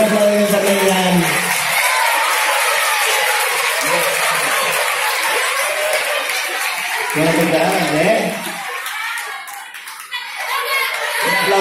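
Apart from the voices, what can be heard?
audience applause for a child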